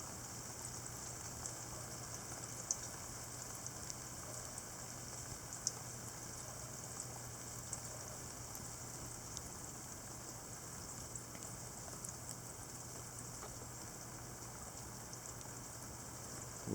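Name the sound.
very heavy chunky rain falling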